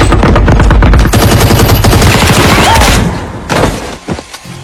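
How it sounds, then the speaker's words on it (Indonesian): Soldiers in a film unleash loud, rapid machine gun fire in a dense sustained volley that breaks off into a few scattered, fainter shots. "langsung ditembak bertubi-tubi oleh para tentara sehingga dia tumbang"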